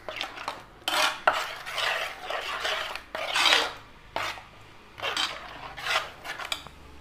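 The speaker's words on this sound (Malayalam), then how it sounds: "നമ്മൾ നല്ല മിക്സാക്കി." A spoon scrapes and clatters around a metal pot of dried fish curry made with tamarind, in several bursts of rubbing and clinking separated by short pauses, close and fairly loud with no talking.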